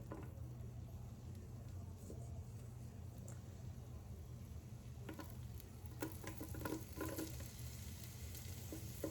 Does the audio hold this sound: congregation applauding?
no